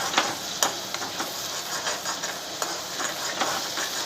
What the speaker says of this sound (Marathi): ते टमाटर तेलात चांगलं भाजून घ्यायचं